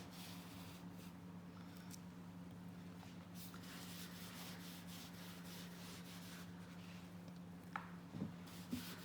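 Colour being wiped by hand onto a leather car seat during restoration of a Riley Pathfinder interior makes a soft, steady rubbing over a constant low hum, with a few faint bumps near the end.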